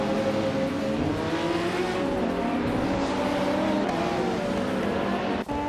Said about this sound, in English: driving a 1996 Lamborghini Diablo Iota, a car known for its aggressive styling and raw power